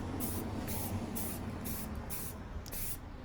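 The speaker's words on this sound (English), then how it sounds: "I'm not very good with a spray can" An aerosol spray paint can hisses onto a vintage toolbox in short, repeated bursts with brief gaps between them, close and fairly quiet, in cold, windy outdoor conditions.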